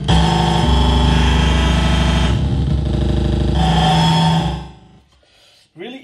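A Princess PRNCS eurorack synthesizer module sounding a loud, buzzy, droning tone with shifting harmonics, changing timbre partway through, then cutting out abruptly before a short burst of sweeping glitchy noise.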